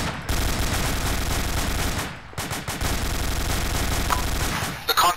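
Loud, close automatic gunfire erupts in sustained bursts during a military patrol, breaking off briefly before resuming, with a faint voice heard near the end.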